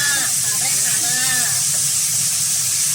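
Lotus root stir-fried in a pan gives a steady, loud hiss and sizzle throughout, with a voice chattering over it near the start.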